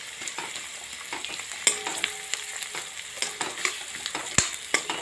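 Onion and capsicum fry in a pan with a steady, close sizzle, broken by frequent sharp clicks and scrapes from a spoon stirring against the metal. No one speaks.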